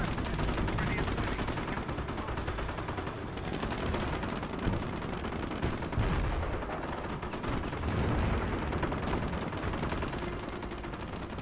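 Dense, continuous battlefield din of artillery and gunfire in the Company of Heroes strategy game, with overlapping shots and blasts sustained at a steady loud level throughout.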